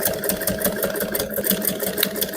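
Sewing machine running steadily while stitching the caging on a bust cup, a continuous close mechanical whir with fast repeated needle pulses and no talking.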